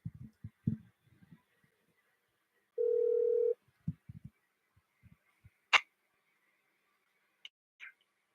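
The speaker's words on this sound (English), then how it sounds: "I'm about to make this phone call." A steady telephone dial tone holds for under a second, preceded by scattered clicks and handling knocks and followed by a few faint beeps, with no talking.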